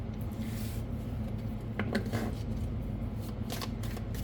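Tea leaf oracle cards shuffled by hand, soft riffling and flapping in short bursts over a steady low hum, fairly close and moderate in level.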